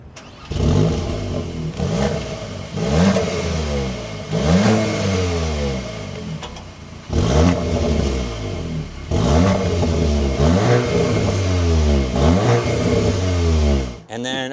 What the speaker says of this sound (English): let's take a listen to how this S3 sounds